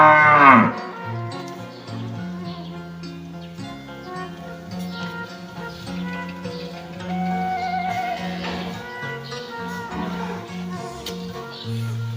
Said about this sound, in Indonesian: ada berapa sapi tuh